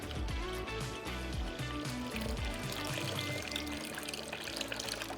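Cold water poured steadily into a mixing bowl holding yeast, a continuous close splashing trickle lasting several seconds without a break.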